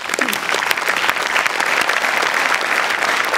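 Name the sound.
audience applause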